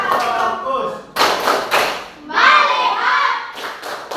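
Classroom children perform the tepuk fokus clapping routine, sharp hand claps and taps coming in short rhythmic bursts mixed with chanted voices and a teacher speaking.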